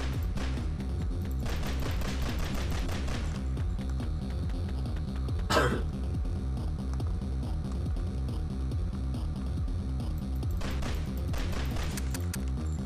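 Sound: gunfire from guns in a video game

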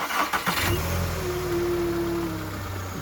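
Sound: car engine starting

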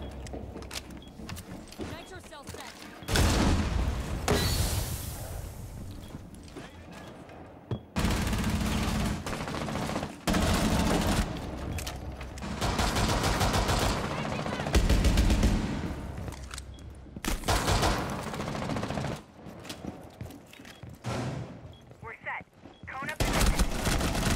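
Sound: gunfire in video game Rainbow Six Siege

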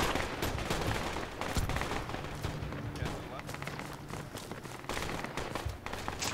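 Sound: gunfire in a video game

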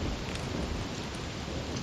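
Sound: thunder and lightning strike in the video game Don't Starve

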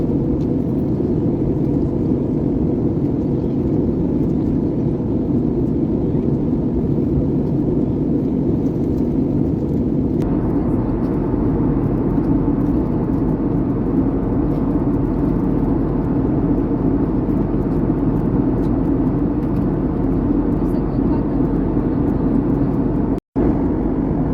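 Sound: airplane landing

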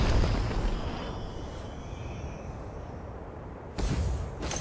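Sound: tower destroyed explosion in video game ROV

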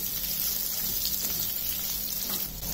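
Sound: stirring potatoes with cumin in a frying pan

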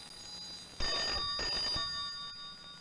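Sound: telephone bell ringing

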